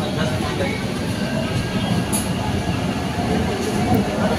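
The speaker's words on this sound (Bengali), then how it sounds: "পুরো একদম ঠিক টাইমে মেট্রোটা ছেড়ে দিল।" A Kolkata metro train pulls out of an underground station, a loud, steady rumble and roar of rails from inside the carriage with faint voices mixed in.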